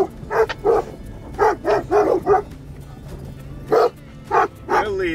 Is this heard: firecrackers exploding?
no